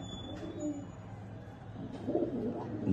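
Pigeons from a home loft collection coo in soft low rolling bursts, strongest toward the end, with faint background voices mixed in.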